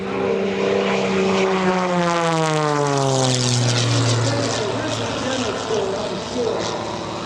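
Scott Francis's NXS aerobatic propeller airplane at an airshow, its engine roaring close and loud with a sweeping pitch drop as it passes and maneuvers, then a sustained buzzing drone.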